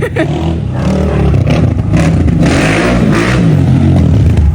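A new Rottor Puncher Lite 250 motorcycle engine revs loud and close, a rough, throbbing roar that surges and holds. Voices can be heard faintly underneath.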